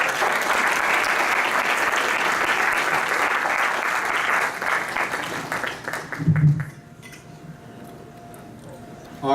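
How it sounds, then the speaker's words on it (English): Audience applause for speaker Joe Wanke fills the hall, steady and loud for about six seconds, then a brief thump and the clapping dies away to quiet room tone. "give another round of applause to Joe Wanke"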